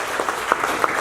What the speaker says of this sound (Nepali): एकचोटि ताली बजाइदिनुहोस् न पास्टर खालिद